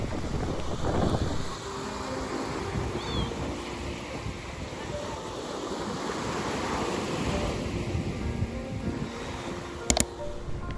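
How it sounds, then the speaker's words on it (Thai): Ocean waves wash onto a beach at Koh Larn, a continuous surf roar mixed with wind buffeting the microphone, with a brief knock near the end. "ฟังเสียงคลื่นริมชายหาดค่ะ"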